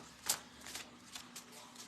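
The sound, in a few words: shuffling tarot cards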